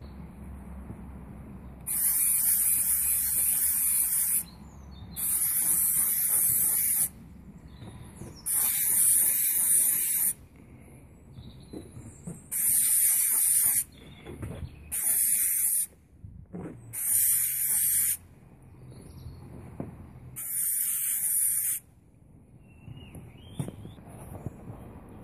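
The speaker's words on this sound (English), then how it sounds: "a quick spray of matte black just to take that kind of plasticky shine away" Spray can laying matte black paint onto model garden railway trucks, seven or eight loud hissing bursts of about two seconds each with short quiet gaps between them, close and without talk.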